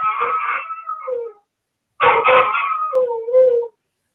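A dog howls in two long, loud, close wavering bursts separated by a short silence, with no talking.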